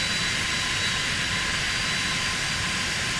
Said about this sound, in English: There's that plane that's just arrived.